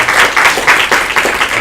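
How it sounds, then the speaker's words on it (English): A lecture audience claps for a short stretch after a teaching session, close and loud, with a dense, evenly pulsing patter of many hands and no voices. "Let's give these guys a round of applause for teaching this."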